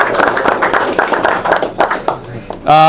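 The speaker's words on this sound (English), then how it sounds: "how about a nice round of applause for the young guys getting up early in the morning" An audience at a men's ministry gathering gives a round of applause, many hands clapping briskly and fading out, then a voice and brief tone cut in at the end.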